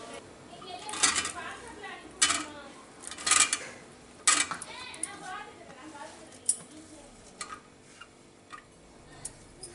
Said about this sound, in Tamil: இப்போ நம்ம வெங்காயம் பச்சை மிளகாயெல்லாம் சேர்த்து நல்லா கலந்துடலாம்